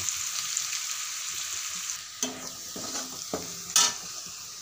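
Spice masala frying in a pan for a black chickpea curry, with a steady sizzle broken by a few sharp scraping strokes of the spoon near the end.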